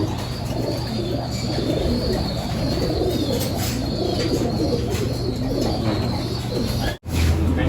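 Pigeons coo steadily in a loft in Tayabas, Quezon, where young birds are kept, a dense layered murmur of calls close by with faint chirps and an occasional wing flutter, broken by one brief dropout near the end.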